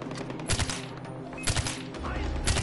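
Pump-action shotgun blasts in Far Cry 4, three loud booming shots spaced about a second apart, over a busy background of game noise.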